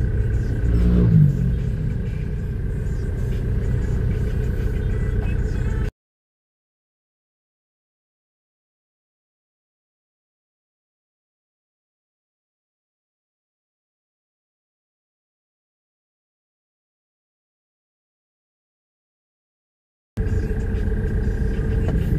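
Cars in traffic after a typhoon produce a steady low engine rumble and road noise for several seconds, which cuts to silence and then returns briefly at the end.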